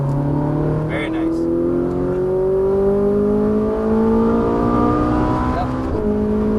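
Ferrari 458 Italia V8 on a racetrack, engine rising steadily in pitch as it accelerates through gears, loud and close, with an instructor's voice talking over it.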